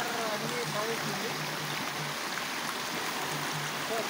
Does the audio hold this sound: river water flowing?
yes